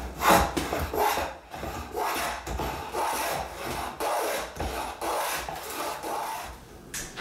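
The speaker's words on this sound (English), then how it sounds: "then just plow the groove starting from the end and working your way back" A Stanley #45 combination plane plows a groove along a wooden board in a workbench, giving repeated close rasping strokes, each a rough shaving swish followed by a short pause, steady and fairly loud.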